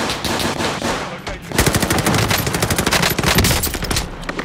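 Rapid automatic gunfire in the Call of Duty Modern Warfare shooter, loud fast bursts of machine-gun fire with a short pause before the rattle resumes, close and dominant.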